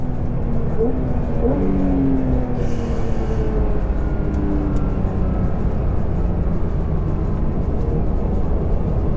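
A Porsche GT3 on a road drive revs toward 9,000 RPM, a loud engine note climbing then settling into a dense, roaring drone under rushing wind noise, with a brief shout partway through.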